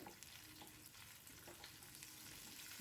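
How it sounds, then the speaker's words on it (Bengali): Pomfret fish frying in a pan of oil, a faint soft sizzle with light crackles, steady and quiet, a brief louder knock at the very end. "তো এই যে পমফ্রেট মাছটা আমি ভালো করে উল্টে পাল্টে ভেজে নিলাম সুন্দর করে।"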